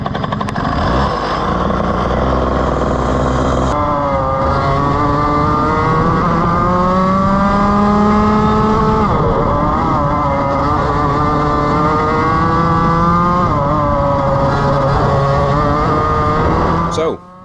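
A racing go-kart engine drives hard around a track for a race session on new tires, producing a loud, continuous, buzzing drone whose pitch climbs and falls steadily through corners and straights.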